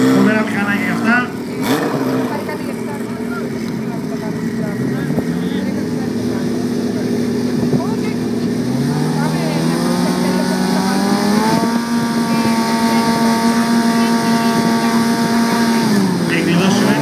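Drag racing motorcycles roar loudly at a drag event in Polykastro, revving and accelerating hard with rising pitch through gear changes, under an announcer's fast commentary.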